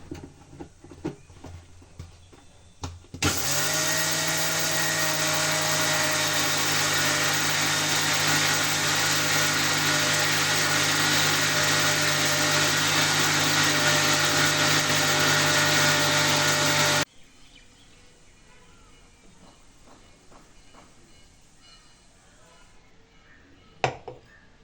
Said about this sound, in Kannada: ಸೊ ಇದು 3 ಇಂಗ್ರೀಡಿಯೆಂಟ್ಸ್ನ ಮಿಕ್ಸಿ ಮಾಡಿಕೊಂಡ್ರೆ ಮುಗೀತು.